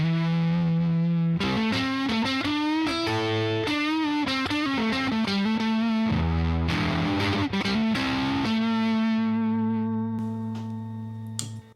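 Electric guitar through a fuzz-face style custom fuzz pedal with a switchable input cap setting, played as loud, thick, sustained distorted riffs and held notes that ring out at the end, with no talking.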